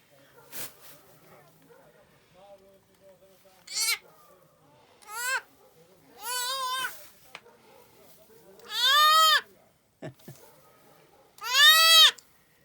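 Goats bleat during a natural goat birth of triplets on a farm, with several loud, wavering cries coming at irregular intervals, some short and some drawn out, between quieter stretches of background noise.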